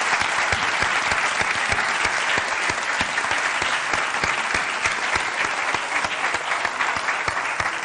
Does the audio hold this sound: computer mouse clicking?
no